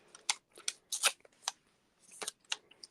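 Scissors snip through paper while cutting out a stamped image for a Christmas card, a quiet, close series of crisp cuts in an irregular rhythm with brief pauses between them.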